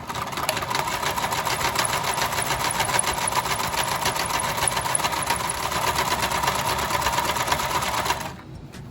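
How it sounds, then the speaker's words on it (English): A sewing machine runs steadily for about eight seconds, stitching fabric for a homemade bakers tent with a fast, even mechanical rattle and hum, close and loud, then stops abruptly. No one speaks. "Let you watch me sew a sec."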